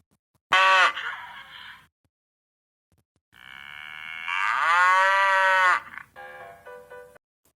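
Two cow moos, a short one and then a long drawn-out low, separated by a gap, with a brief trailing call at the end.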